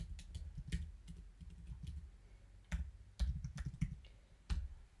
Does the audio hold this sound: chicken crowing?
no